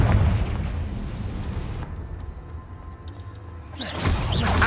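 A Confringo fire spell detonates in Hogwarts Legacy, a booming blast that fades into a quiet hiss before a second whooshing burst swells at the end.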